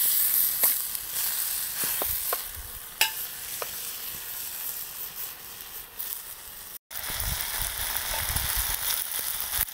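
Sac kavurma meat cooks on a sheet pan over an open wood fire, giving a steady broadband sizzle with occasional stirring clicks and a brief dropout near the end.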